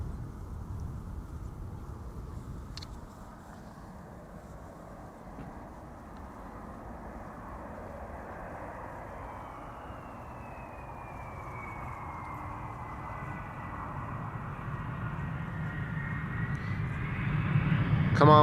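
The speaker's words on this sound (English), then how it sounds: "This is Delta Airlines Flight 136 coming in from Detroit, Michigan." A 21-year-old Delta Airlines airliner on a flight from Detroit lands at Amsterdam Schiphol Airport, its engines a steady distant roar with a rising whine that grows louder toward the end.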